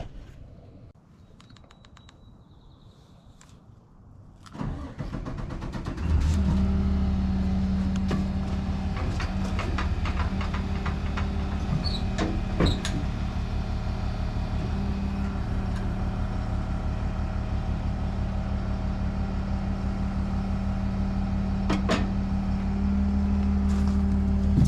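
A cheap skid steer's engine starts a few seconds in and then runs at a steady, loud, droning idle close by, with occasional light clanks over it and no talk.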